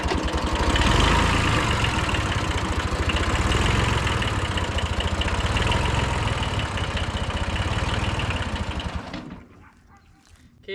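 An old Japanese tractor's diesel engine runs loudly and steadily with a rough, throbbing chug as it backs up, then cuts out abruptly near the end, leaving near silence.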